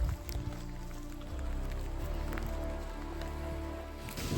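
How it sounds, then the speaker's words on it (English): Dense, steady patter of bean-sized hail striking surfaces nearby in Colorado, a continuous rattling hiss with a low background rumble of thunder. "Straight hail, and it's coming down."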